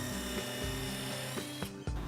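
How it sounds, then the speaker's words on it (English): A drill fitted with a countersink bit bores a pilot hole into a wooden cabinet, giving quiet, close whirring with a few short catches and stops, with no voices. "He'll pre-drill a pilot hole with the countersink bit."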